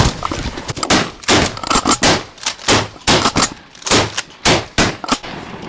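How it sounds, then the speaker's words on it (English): Shotgun blasts during a goose hunt, a rapid volley of about a dozen loud, close shots fired in quick bursts by several guns, with brief gaps between them. "I'm shooting. I'm shooting. I'm shooting."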